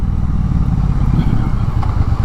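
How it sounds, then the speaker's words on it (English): A 2022 Triumph Bonneville Bobber motorcycle engine braking while riding, with a steady, loud low rumble and wind noise, no talking. "Okay, engine braking."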